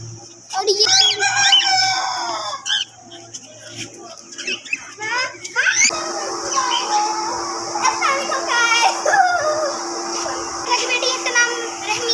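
Chickens cluck and a rooster crows repeatedly nearby, with people talking over the birds throughout.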